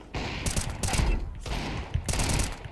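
Rapid bursts of gunfire from the game CS2, several loud close-range volleys in quick succession with short gaps between them.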